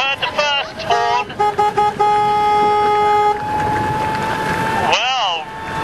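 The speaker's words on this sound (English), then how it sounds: "And you heard the first horn." Horn blasts at the finish of a Volvo Ocean Race sailing race in Boston, several short toots and then long steady tones amid wind and boat noise, ending with a wavering siren-like blast.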